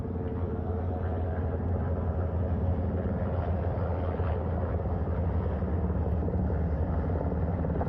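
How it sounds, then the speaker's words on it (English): Helicopter hovering and setting down on a ship's flight deck at sea, a heavy continuous rotor roar and engine drone, loud and steady throughout from close by on the bow. "The first helicopter coming in."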